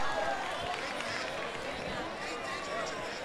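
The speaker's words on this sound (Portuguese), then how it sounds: "Levou, salva de palmas" Applause and cheering from a crowd at the final of a sports challenge match, a dense steady clatter of hands that holds for the whole stretch, with voices mixed into the noise.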